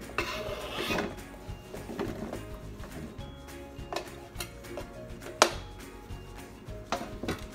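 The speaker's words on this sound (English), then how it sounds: "So I have my chef knife here. Chop these guys up." A chef knife chops sweet potatoes on a cutting board in irregular knocks and thuds, some sharper than others, close and moderately loud with kitchen clatter and no talking.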